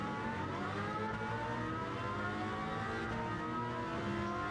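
Race car engines from Gran Turismo 7: a Mercedes-AMG GT and a Porsche GT race car drone together at a steady high pitch, a dense layered whine that stays quiet and even throughout with no voices.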